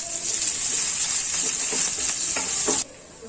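Garlic and onion hitting hot oil with cumin seeds and curry leaves in a pan, a loud, steady hissing sizzle with crackles and stirring scrapes that cuts off abruptly near the end.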